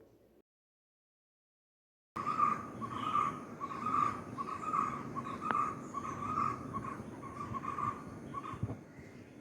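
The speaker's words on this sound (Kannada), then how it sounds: "ಹಾಗೆ ಹಕ್ಕಿಗಳ ಚಿಲಿಪಿಲಿ ಕೇಳಿ ಒಮ್ಮೆ." Birds chirp near a garden where a curry leaf tree has fallen. Repeated calls come at a fairly even rhythm over a soft outdoor background, moderately close and alone after a short silence at the start.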